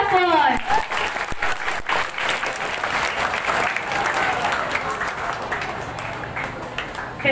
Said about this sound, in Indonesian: Tepuk tangan untuk para tiga paslon.